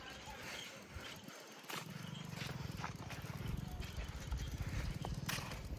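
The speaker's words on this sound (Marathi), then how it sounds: "आज मी जात आहोत बैलगाडीवरून घरी." Bullock cart travelling along a village road, with hooves and the cart's rumble setting up a steady rhythmic clatter that starts after a brief lull and carries on close by.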